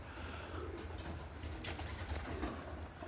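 Low cooing of homing pigeons murmurs through steady outdoor background noise, with faint wing flutters now and then; no one speaks.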